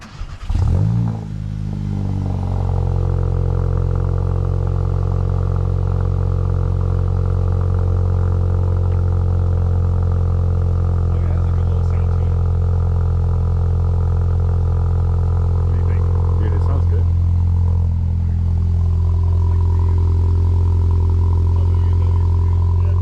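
A VW MK8 GTI with a new ECS catback exhaust cold-starts with a sharp cranking burst and rev flare, then settles into a loud, steady, deep idle close by, with a slight blip near the end.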